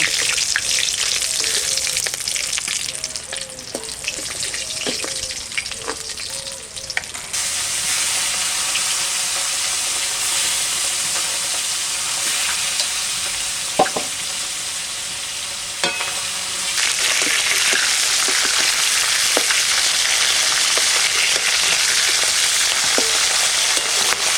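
Loud, steady sizzling of pomfret fish frying in hot oil, a dense continuous crackle with occasional pops and a brief scrape near the middle.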